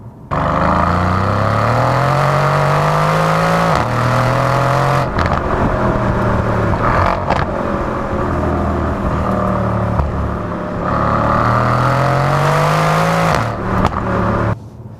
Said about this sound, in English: under the bonnet sits the 4-litre twin-turbocharged hot V8 engine